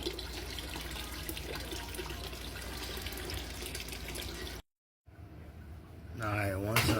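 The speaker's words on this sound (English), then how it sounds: "now add cold water to bring it up to your levels" Cold water runs steadily into a moonshine mash of chocolate malted barley, a continuous splashing pour that cuts off briefly before resuming, with someone talking near the end.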